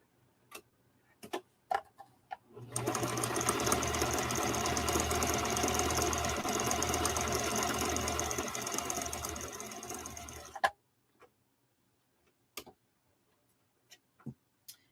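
A sewing machine runs a zigzag stitch with two thread weights, a fast rhythmic mechanical whirring that lasts about eight seconds. Scattered clicks and taps come before and after, with no voices.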